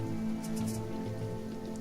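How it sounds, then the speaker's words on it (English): Soft, steady rainfall in the survival game Sheltered, a constant hiss pattering over a low background hum. "it's raining, guys"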